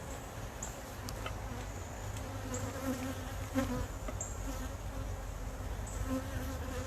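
Honey bees buzz steadily around a backyard hive, a continuous close drone with individual bees passing near, no voices.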